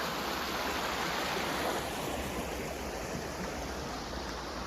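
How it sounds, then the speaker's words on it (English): Roaring Branch Brook, a small stream near a confluence by the Chiselville covered bridge in Sunderland, Vermont, rushing in a steady, full broadband wash of flowing water, close and constant with no voices. "there's another little brook with the confluence coming through right there, and this is the Roaring Branch Brook"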